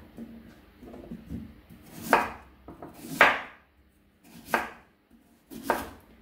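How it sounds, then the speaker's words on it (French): A knife slicing a sweet potato into rounds about 4 mm thick on a cutting board, four distinct crisp cuts spaced roughly a second apart, close and fairly quiet, with faint handling noise between them. "Je fais des tranches d'environ, je sais pas, 4 mm d'épaisseur on va dire."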